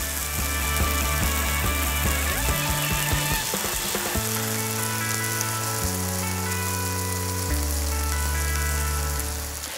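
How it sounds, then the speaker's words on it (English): Pork chops sear loudly in a hot pan, a dense, steady sizzle and crackle close up. Low sustained hum tones shift underneath, and no one speaks. "you want to sear your meats for color"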